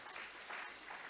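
A church congregation applauds during a sermon on fasting and prayer, a continuous patter of clapping that is fairly faint and distant.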